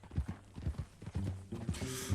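Horse hooves clip-clopping in Red Dead Redemption 2, a steady rhythmic trot of several close hoofbeats, followed by a short burst of louder noise at the end.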